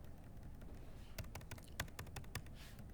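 Quiet, quick keystrokes on a computer keyboard while C# code is entered, a short burst of about a dozen taps over a low room hiss.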